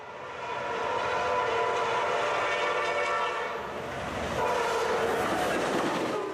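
Amtrak Piedmont Train 74 rumbles past up close at Long Ferry Road Crossing in Spencer, North Carolina, its horn sounding in sustained blasts over the steady rolling clatter of the cars.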